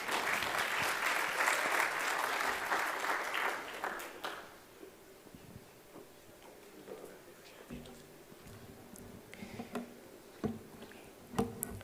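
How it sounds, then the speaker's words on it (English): A conference audience at the Dutch Caribbean airports gathering applauds loudly for about four seconds, then the clapping drops away, leaving a quiet room with scattered claps, thumps and murmuring voices. "Can we please give him another round of applause for sharing with us what's possible?"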